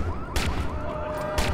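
Gunshots in the Watch Dogs video game come as two sharp, loud bursts about a second apart over a low rumble and a faint high siren-like tone.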